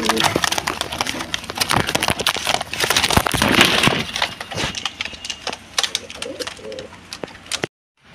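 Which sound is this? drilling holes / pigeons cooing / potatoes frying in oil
pigeons cooing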